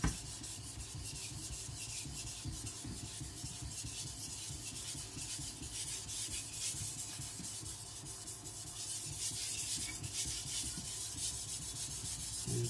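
A Sakon Ryuga gyuto kitchen knife scrapes steadily back and forth across a whetstone from tip to midpoint, a close, continuous gritty rubbing with no talk.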